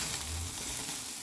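Beef short ribs sizzle on a grill in a steady, close hiss with no talking over it.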